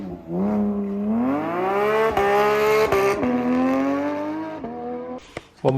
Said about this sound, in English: We actually bought the same exhaust, the Sharkworks track exhaust for this one, so it sounds amazing.